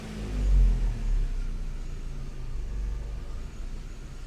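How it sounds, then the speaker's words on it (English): Low, steady rumble of a 2005 Vauxhall Astra G 1.6 Twin Port engine idling with rough running faults, heard close with slight swells in level and no talk. "It's idling quite nice now, yeah?"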